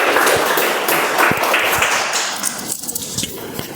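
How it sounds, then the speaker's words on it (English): A round of applause rises from a meeting audience for a guest, steady dense clapping from many hands that thins and fades toward the end. "give a round of applause for him"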